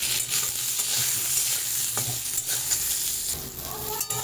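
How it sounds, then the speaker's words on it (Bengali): Eggplant frying in hot oil while being stirred, a steady, bright sizzling hiss with soft scraping and stirring sounds, close and continuous with no talk. "আমি বেগুনটা আগে দিলাম তেলে"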